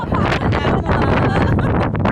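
Loud, gusty wind buffeting the microphone in rough bursts, close and blustery throughout, at a glass bridge at Monte Maria.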